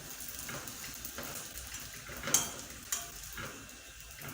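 Chapati cooking in a heavy pan over medium heat, giving a low steady sizzle with soft scraping and two brief sharper knocks near the middle, no talking.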